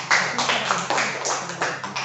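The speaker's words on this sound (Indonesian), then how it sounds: "Iya, tepuk tangan." Children clapping in an elementary school classroom during a lesson on simple parallel electric circuits, a short burst of uneven hand claps with a few louder slaps, close and fairly loud.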